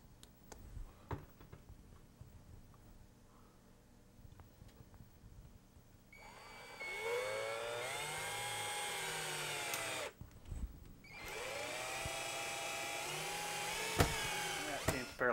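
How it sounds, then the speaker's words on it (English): A power drill driving a final screw to fix a camera mount to a piece of vehicle trim, two whining bursts rising and falling in pitch, close, after quiet handling clicks. "I'm going to finish my mount connection right now by putting in my final screw."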